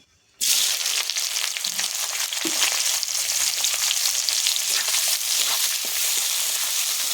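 Onions and bay leaves drop into hot oil for a beef and potato curry, a sudden loud sizzle bursting from near silence, then a constant crackling hiss with a few faint knocks of the pan.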